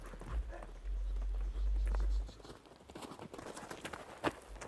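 A young horse lopes under a rider during a desensitizing session, hooves thudding on the ground in a quick rhythmic clip-clop, with heavy low rumbles from close-up wind or movement and faint scattered footfall patter.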